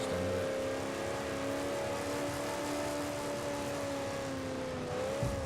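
Nissan Pathfinder engine in Forza Horizon 4, a steady loud drone of a sustained rev with a slightly rising pitch, holding nearly level throughout and dipping briefly near the end.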